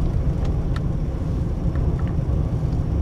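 A 1997 Buick LeSabre engine idles roughly after a cold winter start, giving a steady, close, low rumble throughout with no voices.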